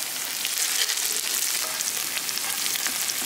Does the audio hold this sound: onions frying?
yes